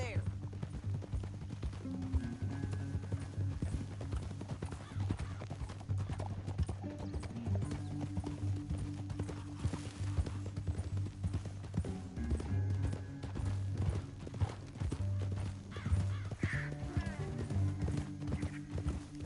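Horse hooves clip-clop steadily in Red Dead Redemption 2 as riders move through a canyon, rhythmic and close, under a droning musical score, with an occasional whinny and voices talking over it.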